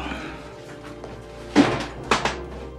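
A top drawer is pulled open in a quiet film interior scene, producing two short wooden knocks and scrapes, the first louder, against a low steady room hum with no speech.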